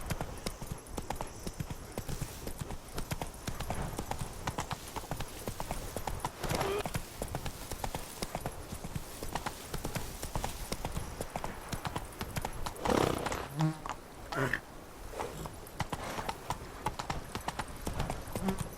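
Horse hooves clip-clop steadily at a riding gait in The Witcher 3, moderately loud and continuous, with a brief whinny and light ambient game sound around them.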